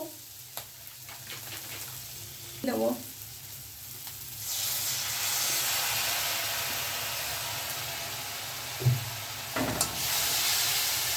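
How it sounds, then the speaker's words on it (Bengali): Soy sauce poured into a hot pan for an egg tarka bursts into a loud, steady hissing sizzle midway, after a quieter stretch of sizzling and a couple of utensil knocks, heard up close. "একটু সয়া সস দিয়ে দেবো"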